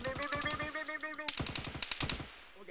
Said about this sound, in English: We're getting shot at as well.